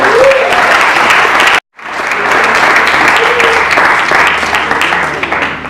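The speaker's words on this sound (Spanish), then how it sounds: "Denle un aplauso al Señor." Loud, dense applause from a church congregation during a sermon, full crowd clapping with a brief cutout before resuming, with some cheering voices mixed in.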